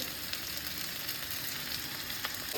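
Spices fry in hot oil in a pan with a continuous, even, fairly quiet sizzle that stays close, broken now and then by faint stirring scrapes.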